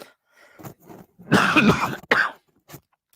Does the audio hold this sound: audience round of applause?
no